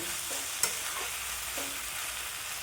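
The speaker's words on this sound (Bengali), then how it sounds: "নতুন আলু তো ভাজতে ভাজতে আলু সেদ্ধ হয়ে গেছে" New potatoes fry in a pan for a cauliflower roast, giving an even background sizzle with a single sharp click and a couple of soft stirring scrapes, no talking.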